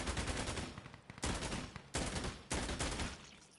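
Rapid automatic rifle fire from the video game Insurgency Sandstorm, three or four sustained bursts separated by brief gaps, loud and close, with no talking.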